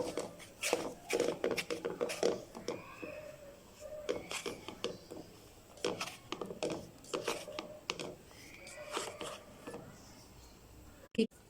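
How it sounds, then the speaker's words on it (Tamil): Flour dough for naan being mixed and squeezed by hand in a bowl, giving close, repeated soft rubbing and slapping sounds in irregular bursts, with a sharp clatter near the end. "இதெல்லாம் நல்லா மிக்ஸ் பண்ணிக்கலாம் கை போட்டு."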